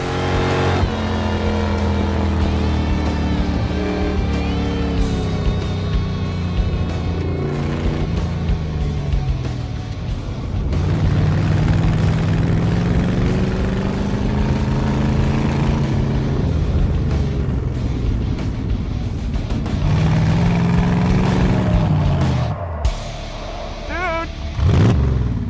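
A 1985 C4 Corvette kart held in third gear drives a timed lap, its engine droning loud and close, rising and falling in pitch through the corners with steady revving throughout.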